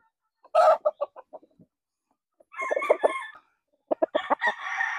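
A white Kelso gamefowl rooster clucks in short sharp bursts, then gives a rasping crow-like call and another run of quick clucks, close and clear against a quiet background.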